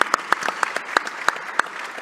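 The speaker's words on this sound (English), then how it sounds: "yes, a round of applause" A small round of applause from a mayors' summit audience, a handful of crisp, separate claps in a brief burst.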